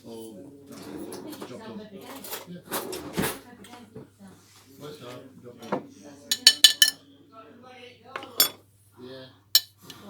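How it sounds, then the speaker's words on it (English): A metal spoon scrapes and clinks against pizza bases and a sauce bowl while spreading tomato sauce, with sharp scattered taps under ongoing conversational speech. "So with our spoon, yeah, chuck that on the base."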